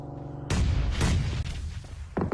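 Grenade bombardment in a battle royale video game, a sudden loud boom followed by a second heavy blast and rumbling debris, with another sharp burst near the end.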